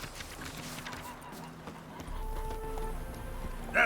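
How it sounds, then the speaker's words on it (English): Roach, a horse in The Witcher 3, clip-clops at a steady rhythm through wheat fields on the way to Novigrad, hooves moderately close under soft game music and ambient noise. "just riding your horse on through"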